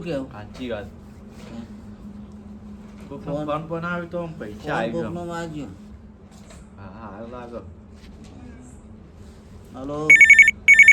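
Voices talk amid a quiet room tone with soft cooing, then near the end a telephone starts ringing loudly in short repeated electronic bursts.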